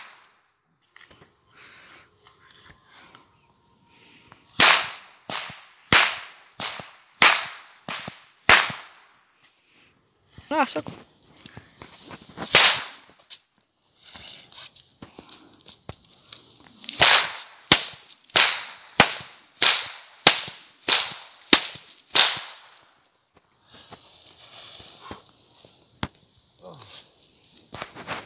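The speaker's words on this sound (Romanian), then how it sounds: "cam așa se aude cu biciu de lanț" A homemade chain whip cracking outdoors in bursts of sharp, loud snaps, several in quick rhythmic runs separated by pauses, with one brief spoken word.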